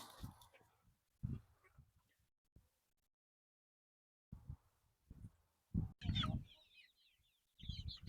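Chickens at the coops cluck and squawk in short, scattered bursts separated by quiet gaps, one louder rooster-like call rising near the end, close by and without talking.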